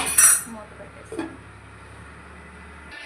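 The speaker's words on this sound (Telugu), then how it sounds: "మూత పెట్టేస్తాం." A lid set onto a cooking pot of simmering chicken kurma: a sharp metallic clink right at the start, a fainter knock a moment later, then a quiet low hum.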